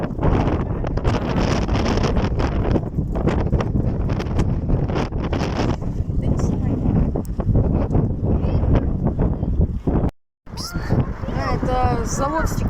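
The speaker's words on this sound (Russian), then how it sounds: "Такое ветрище сегодня, прямо ураганный, порывистый ветер." Strong, gusty hurricane-force wind buffets a microphone outdoors near a river, a loud continuous roaring rumble that barely lets up, with a brief dropout before voices are heard talking under the wind.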